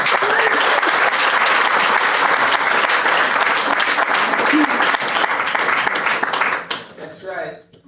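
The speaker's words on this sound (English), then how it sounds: "Round of applause" Dense, sustained applause from a summit audience fills the room loudly for several seconds, then thins and fades out toward the end.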